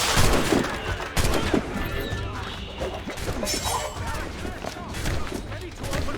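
Volley of gunfire from a naval battle in Assassin's Creed Rogue, with repeated crashes and bangs layered over continuous shouting voices and battle din, loud and dense throughout.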